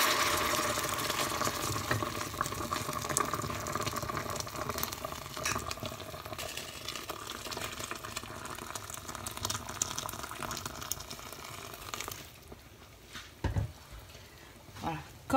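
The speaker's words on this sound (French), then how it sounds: "On rajoute de l'eau bouillante." Boiling water poured into a couscous pot for Moroccan couscous with beef, a steady hissing, bubbling pour that runs for several seconds before tapering off into a few soft clatters.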